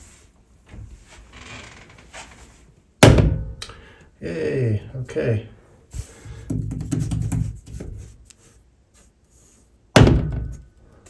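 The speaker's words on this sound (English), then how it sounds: "when I open these doors, they're all going to line up" Tall 8-foot doors swing shut against strong magnetic door stops, landing with sharp, heavy thunks at separate moments, amid handling noise and brief talk between the impacts.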